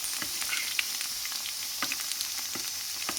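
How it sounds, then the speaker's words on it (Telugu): Okra (bhindi) pieces frying in a pan with oil, a continuous close sizzle broken by several soft stirring scrapes and taps, no voices. "ఊరికే కాస్త మెత్తబడి పూర్తిగా వేగితే చాలు బెండకాయ"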